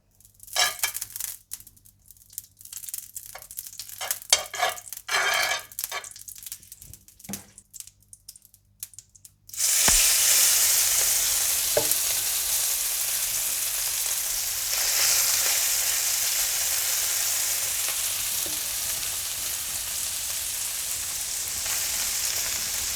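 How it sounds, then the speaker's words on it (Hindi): Okra (bhindi) hits oil or desi ghee on a hot sizzler plate after several seconds of quiet clinking and handling, bursting into a loud, continuous hissing sizzle that slowly eases but keeps going to the end, with no talking. "सिजलर गरम करें और इसमें थोड़ा तेल या देसी घी डालकर भिंडी इसमें डालकर सर्व करें"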